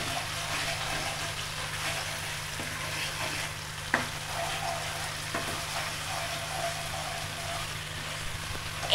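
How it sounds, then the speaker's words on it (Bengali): Garlic paste and cumin paste frying in hot oil for biryani, a steady broadband sizzle with a few stirring clicks around the middle and a louder knock right at the end, no voices. "এটা আমি এখন তেলের ভিতরে দিয়ে দিব। এটা এখন আমি তেলের সাথে সুন্দর করে ভাজবো।"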